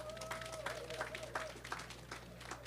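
Scattered applause from a crowd at a World Steelpan Day celebration in Tobago, uneven claps rising and falling over a background hum, with a faint voice at the start.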